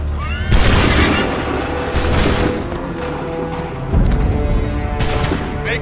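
Musket volleys crack out in Assassin's Creed 3 during an American Revolution battle, several loud broadband bursts at uneven intervals, each rolling into a dense battlefield din.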